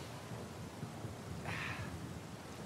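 Rain and thunder in the video game Uncharted 4, a constant dense hiss of falling rain with a low rumbling undertone throughout and a brief higher sound midway, no voices.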